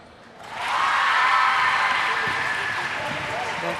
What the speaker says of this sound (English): The crowd are happy.